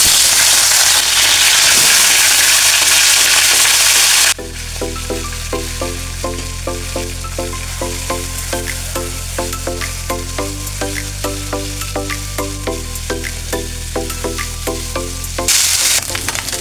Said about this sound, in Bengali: এখন আমি এই মাছটা একটু হালকা ভেজে নেব।